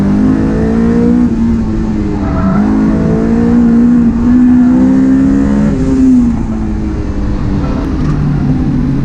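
A Honda S2000 race car on track revs hard and loud close by, its engine note climbing and dropping through gear changes with no talk.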